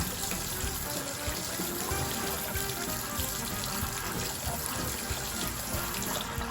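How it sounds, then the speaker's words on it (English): Warm water runs steadily from a tap into a sink, a constant close-up rush that fills the whole stretch without pause, heard alone with no talking. "So we're gonna get the warm water started."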